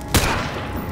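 A single sharp gunshot from the Left 4 Dead 2 video game cracks loudly near the start, followed by a dense wash of in-game noise and ambience.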